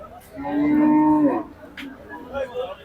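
A single loud, drawn-out cow moo close by at a cattle market in Bangladesh, followed by faint crowd murmur and scattered background noise.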